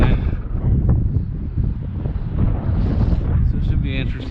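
Heavy wind buffets the microphone while a Trek Dual Sport hybrid bike is ridden along suburban streets, a steady low roar across the whole stretch with gusty surges.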